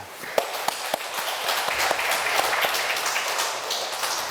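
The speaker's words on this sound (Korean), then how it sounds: "하나님께 영광의 박수를 우리 한번 돌려봅시다." Church congregation applauding together in a worship hall, a dense steady wash of clapping with a few sharper individual claps near the start, sustained and fairly loud throughout.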